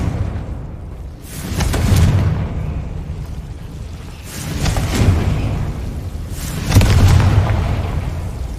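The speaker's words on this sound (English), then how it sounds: "Confringo." Confringo fire spell blasts in Hogwarts Legacy, three deep booming bursts spaced a few seconds apart, each swelling and fading with rumbling low end under a steady game backdrop.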